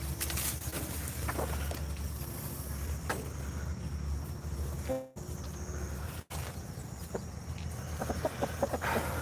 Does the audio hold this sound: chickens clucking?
yes